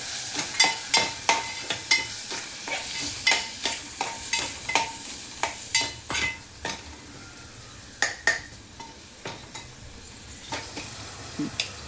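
Homemade red chili powder and sambar masala are stirred into a pan for tomato rice, a spoon scraping and knocking in steady repeated strokes over a continuous close sizzle of frying.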